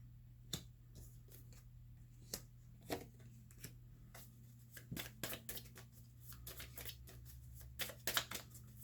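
Tarot cards being shuffled and drawn, a series of quick crisp riffles and flicks at close range, some in short bursts, with a faint steady hum underneath.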